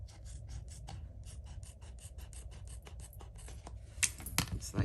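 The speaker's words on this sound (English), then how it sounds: "We're just gonna take our scissors and do a little trimming." Scissors trimming paper for a card-making project: quick, rhythmic snipping and scraping strokes, close and fairly soft, in a steady run of short cuts with a few louder rustles near the end.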